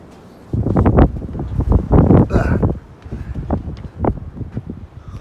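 Strong gusty wind on the Appalachian Trail buffets the microphone with loud, rough rumbling that surges and eases in waves.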